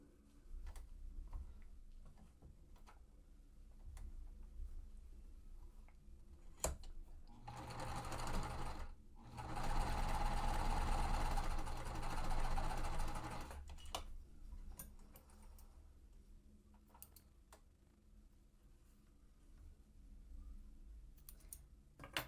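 A domestic sewing machine runs in two short bursts while stitching cotton quilt pieces, a busy whirring hum between quieter clicks and taps of handling fabric.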